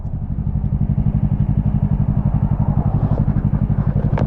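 Close, steady engine drone from a 2016 Yamaha YZF-R3 motorcycle being ridden, with a fast, even pulsing rhythm and light mechanical clatter running continuously throughout.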